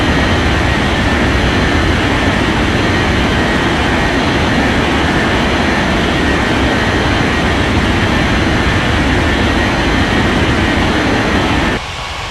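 Jet aircraft engines at an airport in an air traffic control game make a loud, constant broadband roar that holds steady throughout, dropping slightly in level just before the end.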